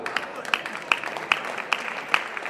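Scattered claps rise from a crowd at a temple auction of cradle items, several sharp, evenly spaced hand claps rather than full applause, with a voice speaking over them.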